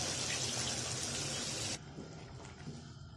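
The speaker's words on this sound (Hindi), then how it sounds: "और ये यखनी है ये मैंने इसमें डाल देनी है।" Yakhni stock poured into a cooking pot for pulao, a loud, steady rushing pour for almost two seconds that then cuts off to a quieter simmering background.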